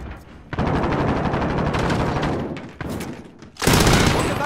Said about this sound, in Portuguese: Estão atirando.